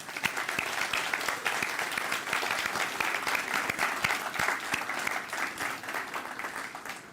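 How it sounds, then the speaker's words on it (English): An audience claps steadily for several seconds, a dense patter of many hands with no voices over it. "I'd like a special round of applause for all of the special guests"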